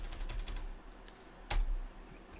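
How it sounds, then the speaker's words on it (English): Quick bursts of computer keyboard keystrokes as a web address is typed, close and fairly crisp, with a pause and then a final heavier key press. "Go to your browser, type remove.bg."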